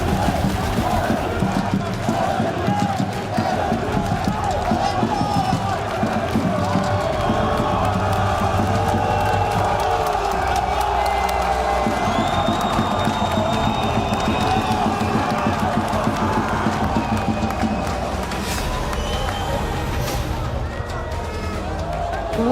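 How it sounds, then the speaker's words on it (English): A packed esports arena crowd roars and cheers during a Call of Duty: Black Ops 7 Esports World Cup playoff match, a loud, sustained wall of shouting and whooping with scattered claps throughout. "What a noise, what a crowd"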